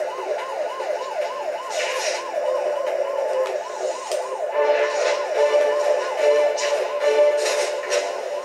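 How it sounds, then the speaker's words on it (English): A wailing ambulance siren in the video game Spider-Man: Web of Shadows cycles up and down continuously and loudly, with occasional bursts of noise and thuds around it. "the ambulance almost knocked me over"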